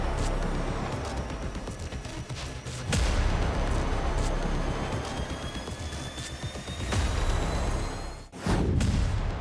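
Police gunfire in Katihar, Bihar, heard as sharp cracking shots and booms over a noisy crowded outdoor din, with a few loud bangs standing out against continuous commotion.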